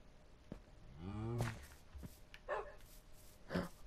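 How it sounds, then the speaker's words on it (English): Dog barks in the video game Minecraft, several short separate yelps spaced across a few seconds, moderately close, with a lower moaning call at the start and no talk over them. "I hear a dog."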